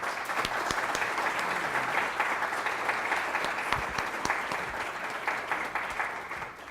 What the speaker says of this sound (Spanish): lo recibimos con un aplauso y le damos la palabra